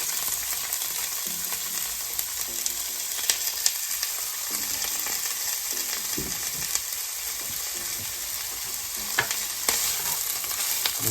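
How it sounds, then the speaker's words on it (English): Boiled, finely chopped mixed vegetables fry with garlic in a pan for vegetable jalfrezi, a steady soft sizzle with occasional stirring scrapes and clicks, close and fairly quiet with no talking. "Fry it down."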